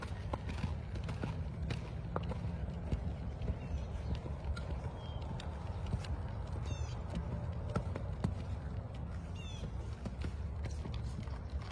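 Faint rhythmic hoofbeats thud over a noisy outdoor background as a horse lopes at a steady pace during riding training, with a few birds chirping in the distance.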